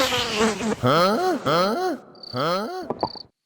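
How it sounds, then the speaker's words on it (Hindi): A thin, high mosquito whine in an animated Hindi crime comedy, appearing as two short bursts that cut in between and after animated voices speaking. "मच्छर उड़ रहा है।"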